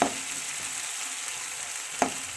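Ground tomato goes into a pan of frying liver (kaleji) and sizzles with a steady, moderate hiss. Two sharp clinks of a utensil stand out, one at the start and one near the end.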